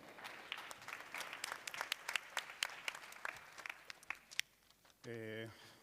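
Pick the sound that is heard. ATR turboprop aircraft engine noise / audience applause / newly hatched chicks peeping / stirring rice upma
audience applause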